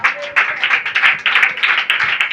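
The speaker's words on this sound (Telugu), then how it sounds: "చప్పట్లు కొట్టాల" Church congregation clapping hands in a rapid, fairly even rhythm of sharp slaps, loud and close, with no talk.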